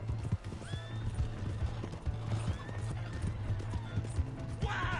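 A horse in the western game Red Dead Redemption 2 gallops with rapid, close hoofbeats and lets out a rising whinny, then a second neigh near the end, over a low steady background hum.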